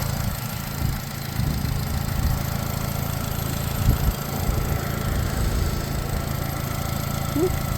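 Small 2014 Chevy Sonic engine idling with the hood open, a steady low rumble close by with faint light clatter and a couple of soft knocks, and no voices.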